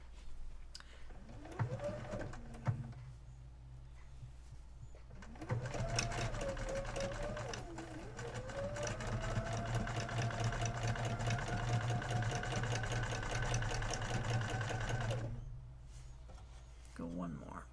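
A sewing machine hums and rattles at a steady rapid stitch for machine quilting, building to a long continuous run with rising motor pitch, with voices talking over it.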